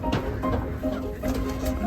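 Chickens cluck softly inside a farm coop during winter storm preparations, giving low, irregular murmuring calls over a steady background hum.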